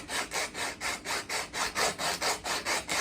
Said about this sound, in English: I'm just using the sandpaper to hopefully smooth out